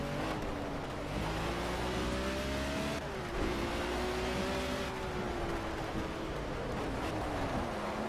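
A Formula A race car engine in a racing video game revs high and whiny, the pitch rising, dipping at a downshift and climbing again, loud and continuous with no talking.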